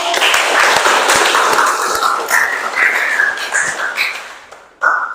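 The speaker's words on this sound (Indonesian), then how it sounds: "Tepuk tangan dulu." A classroom group of teachers and students applauds in a brisk burst of clapping, loud and near, with voices mixed in and a short pause before a final sharper sound.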